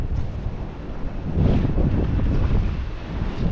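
Gusty wind buffets the microphone on a small boat beside mangrove trees while fishing, a rough, rumbling rush that swells in the middle and stays fairly loud, with no voices.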